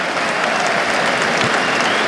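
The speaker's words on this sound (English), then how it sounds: "Big round of applause for Robinson." The Oval cricket crowd applauds bowler Robinson during an England v India Test match, steady sustained clapping from a large crowd throughout.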